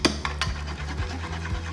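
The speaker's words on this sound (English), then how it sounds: "Gonna use my handy dandy big whisk." A big whisk beating pie filling for a Thanksgiving pie, heard as a steady rhythmic rubbing and scraping at close range, with repeated low strokes against the bowl and no talk.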